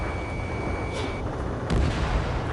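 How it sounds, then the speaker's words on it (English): A fighter jet in Ace Combat 7 fires a missile, with a rushing launch burst and a deep boom rising over a constant engine roar, while a thin tone fades out partway through. "Missile away."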